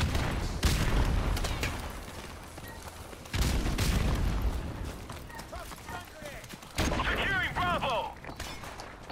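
Call of Duty: Modern Warfare Remastered match on PS4, with booming blasts and bursts of gunfire that return in three loud waves, players talking over the combat throughout.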